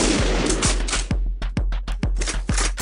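A sniper rifle fires in a GTA-style Minecraft gun mod: a rapid series of loud, punchy game gunshots at a steady pace, close and alone.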